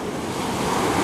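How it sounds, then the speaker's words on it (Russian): Sea waves break and wash onto a beach in Spain, a loud, continuous roar of surf with wind noise and no pause. "И вот третья волна."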